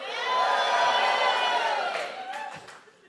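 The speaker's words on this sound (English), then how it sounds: "can you just give a massive shout so we can hear those in the overflow room?" A large church congregation gives a loud, sustained shout of greeting that swells and then fades over about three seconds, heard somewhat distant and roomy, with a few scattered voices at the tail.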